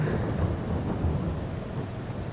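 Steady rain and a deep rumble of thunder fill a Farming Simulator 22 field scene as a continuous, loud wash of sound with no talking over it.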